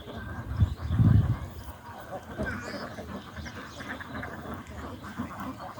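Ducks quack at a duck farm in Naogaon, Bangladesh, with a loud burst of low calls early on, then a steady clamor of the flock and farm background.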